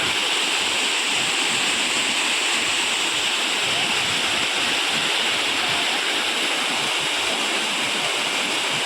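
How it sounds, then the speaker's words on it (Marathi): A waterfall at a dam rushes in a steady, unbroken roar of falling water, close and full, with no voices. "आज बघा ना भारी स्पॉट पाणी पडतं बघा असलं"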